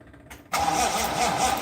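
A 1955 Ford Pop engine, unrun for over ten years, cranks briefly and then catches, settling into a loud, steady running roar close by.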